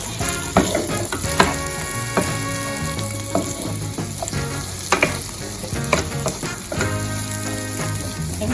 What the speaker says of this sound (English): Let the okra get the flavor from the garlic and the onion and salt, right?